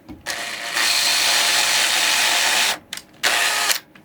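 A small power drill boring shallow guide holes, a couple of millimetres deep, into a guitar body, with one long steady whir and then a shorter second burst after a brief stop, loud and close, with no talking.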